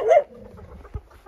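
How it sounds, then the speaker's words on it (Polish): A short, sharp dog bark or yip near the start, then a quiet pause with a faint thump and soft background sounds. "piesek."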